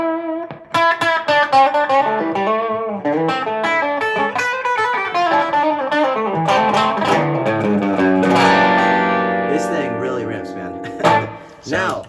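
Guild electric guitar played through a Klon-style overdrive, with loud, continuous chords and single-note phrases carrying a mild crunch and a sustained, swelling passage near the end.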